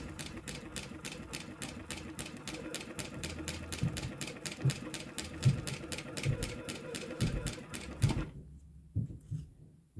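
A sewing machine runs a basting stitch for a fabric raccoon-face bag, a steady rapid mechanical clatter with regular needle beats for about eight seconds before stopping, leaving quiet handling noise.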